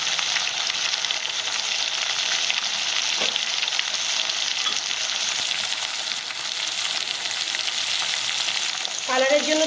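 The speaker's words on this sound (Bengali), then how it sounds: "এটা নেড়ে চেড়ে আমি মশলাটাকে ভালো করে কষিয়ে নেব" A paste of ginger and green chilli with turmeric fries in a pan with a loud, continuous crackling sizzle, closing with a brief scrape of a spatula stirring it; nobody talks.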